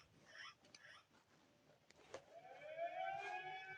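An EAS emergency alert siren rises in pitch and holds a wailing, harmonic tone, faint at first after a few brief beeps and clicks, then swelling louder toward the end.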